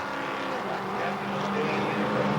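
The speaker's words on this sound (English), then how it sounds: "They pick up the throttle going into turn 4." Race cars at Kil Kare Speedway accelerate as a pack into turn four, a broad blended engine roar at moderate distance that swells slightly over a couple of seconds.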